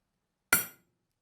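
A single sharp metallic tap of a hammer striking a small steel drill point punch, ringing briefly before fading out.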